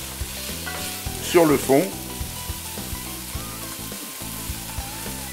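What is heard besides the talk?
lardons sizzling while browning in pan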